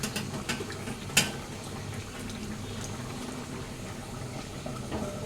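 Vegetables simmer in a pot of Bengali fish sour curry, a soft steady bubbling hiss under the whole stretch with a couple of sharp clinks of utensils near the start.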